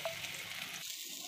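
Gram-flour marinated soybeans frying in hot oil in a wok, a steady soft sizzle that drops quieter partway through, with no talking.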